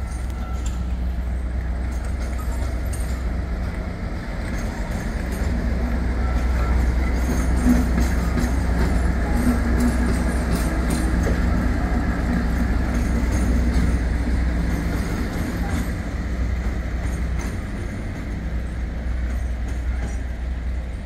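A DC Rail Freight Class 56 locomotive, 56091, hauls a freight train through Preston station, a loud continuous low rumble with steady wagon rattle and clatter lasting the whole passage.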